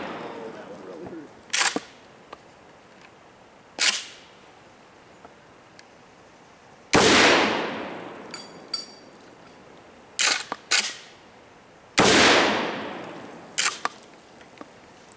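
A Kel Tec KSG 12 gauge shotgun fires 00 buckshot outdoors, loud sharp blasts spaced several seconds apart, each trailing into a ringing decay, with smaller clicks and clacks of handling between shots.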